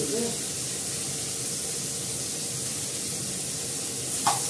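Cumin seeds tempering in hot oil, probably alongside a potato, give a steady broadband sizzling hiss that holds evenly throughout, close and moderately loud, with a brief sharper crackle near the end.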